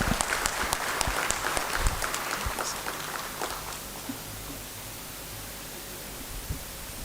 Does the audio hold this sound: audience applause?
yes